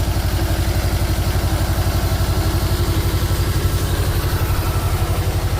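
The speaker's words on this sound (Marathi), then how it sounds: "हा आपला जिओ ट्रॅक्टरच्या साहाय्याने फवारणी घेत आहोत." A tractor engine runs steadily with a rapid, even throb and some clatter while spraying a tomato plot, loud and close with no talk.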